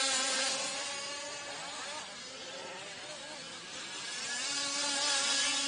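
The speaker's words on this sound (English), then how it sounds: "Hearing a lot of panic revving out of these 2 strokes." Two-stroke racing engines rev hard and buzz at high pitch during a live race, several motors whining together at a distance, rising and falling steadily with no talk.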